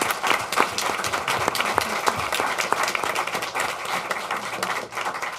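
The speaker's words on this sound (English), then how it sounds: "would you please join me in giving her a round of applause?" Steady audience applause fills a board meeting room, dense continuous clapping from a group at a moderate distance, even in loudness throughout with no speech over it.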